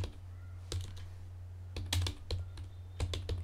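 Someone types on a computer keyboard while editing a document in MS Word, producing several quick bursts of close, crisp key clicks over a steady low hum, with short pauses between bursts.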